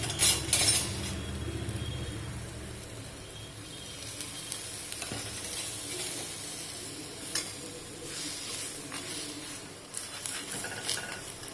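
A ragi and greens adai, a finger millet flatbread with drumstick leaves, cooks on a pan with a little oil. The sizzle is soft and steady, with occasional light clinks and no voices.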